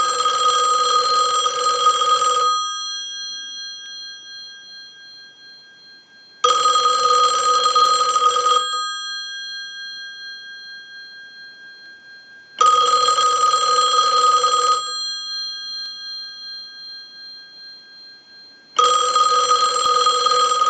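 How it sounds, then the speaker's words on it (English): Western Electric 2500 desk telephone bell rings in four loud, even bursts of about two seconds each, separated by roughly four seconds of silence, with a bright metallic clang, close and alone with no talking. "send a ring cycle like you were getting a call"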